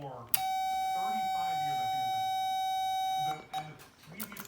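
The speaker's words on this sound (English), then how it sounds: "I fixed the key minder switch so the buzzer goes off when I stick the key in or" The key minder buzzer of a 1969 Camaro sounds as one steady, unbroken electronic tone lasting about three seconds and then cuts off, with someone talking faintly underneath it and briefly after it stops.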